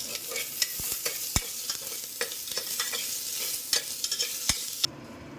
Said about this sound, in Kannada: ಜೀರಿಗೆ ಮತ್ತು ಮೆಂತ್ಯನೂ ಚಕ್ಕೆ ಲವಂಗ ಶುಂಠಿ ಇಷ್ಟನ್ನು ಹಾಕಿ